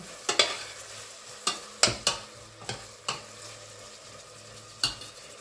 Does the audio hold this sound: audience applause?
no